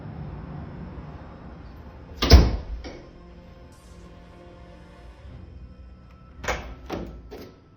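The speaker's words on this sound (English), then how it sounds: "Listen to the knocks." Several knocks echo through an empty house: one loud thump near the start, then a quick cluster of sharper raps later, each separated by quiet room tone with no one talking.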